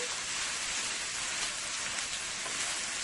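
Vegetables sauté in a hot pan, giving a continuous even hiss that stays steady and close for the whole stretch with no talking.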